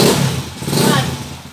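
Repaired motorcycle engine running close up, a loud, rough, throbbing idle with slight revving swells throughout.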